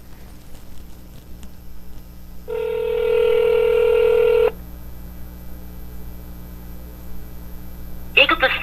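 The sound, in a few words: telephone call dialing and ringing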